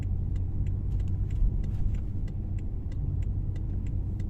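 A 560 hp BMW M5 drives around a roundabout with a deep, steady engine rumble and road noise heard from inside the cabin, close and even, with faint ticking clicks over it and no talking.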